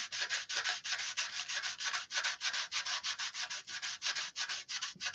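Body filler on a car panel is sanded by hand in rapid rhythmic back-and-forth strokes, a close, dry rasping scrape repeating about four times a second with no voices.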